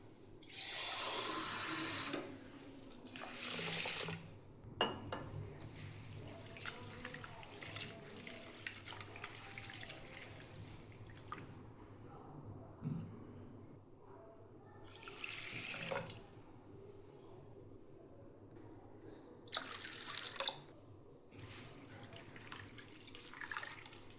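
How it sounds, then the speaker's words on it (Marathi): Chana dal and other lentils rinsed in a bowl of water for appe batter, with bursts of sloshing and running water, trickling and dripping between rinses, fairly quiet and close with no talking. "दोन 3 पाणी डाळी धुवायच्या"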